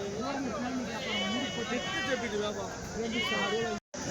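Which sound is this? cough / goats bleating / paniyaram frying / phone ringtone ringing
goats bleating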